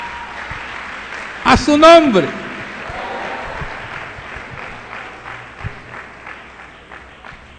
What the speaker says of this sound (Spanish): ¿Cuánto es el aplauso al Señor